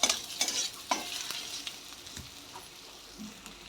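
Onion frying in a pan until reddish for a chhatu curry, with a soft sizzle under scattered scrapes and clacks of stirring, busiest in the first second and then thinning out.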